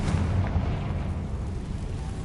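A Confringo blasting spell explodes in Hogwarts Legacy, a loud deep rumbling boom that rolls on and slowly fades.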